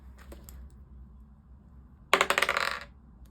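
Dice rolled for a cash-stuffing savings challenge: a single hard clatter as they hit a surface and tumble in a quick rattling burst, after a faint tap and near-silence.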